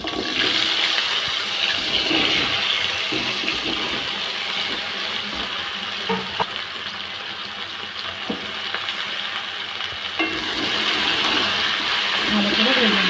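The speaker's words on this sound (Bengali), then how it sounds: "বেগুনগুলো তুলে নিয়েছি, বাকি আলুগুলো ভেজে নেব।" Cut potatoes fry in hot oil in a pan after aubergines, making a loud, steady sizzle and hiss that fills the whole clip, with small clatters of stirring now and then.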